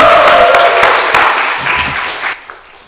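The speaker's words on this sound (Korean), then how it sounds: "다시 한번 박수하겠습니다." Loud, dense applause from a church seminar audience at a Sunday afternoon gathering, close and continuous for about two seconds before stopping abruptly, followed by near silence.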